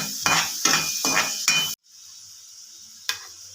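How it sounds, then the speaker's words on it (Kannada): Chopped onions frying in two spoons of hot oil in a pan, giving a steady sizzle broken by four rhythmic stirring scrapes, then a quieter continuous hiss with one brief clink near the end. "ಇವಾಗ ಫ್ರೈ ಆಗ್ತಾ ಇದೆ"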